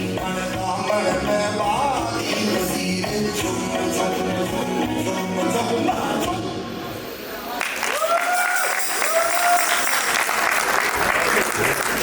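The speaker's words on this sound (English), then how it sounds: "Can we have a big round of applause for her?" Loud, sustained audience applause at a sangeet wedding celebration, dense clapping throughout with music playing underneath and brief melodic voices or whistles in the latter half.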